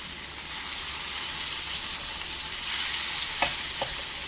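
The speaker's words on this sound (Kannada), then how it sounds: "ಇನ್ನೊಂದು ಸೈಡನ್ನು ಸಹ ಇದೇ ಥರ ಚೆನ್ನಾಗಿ ಫ್ರೈ ಮಾಡಿ ತೆಗೆಯೋಣ" Tandoori chicken pieces sizzling and frying on a hot tawa over low flame, producing a steady, close hiss with a few brief clinks or stirring taps near the end.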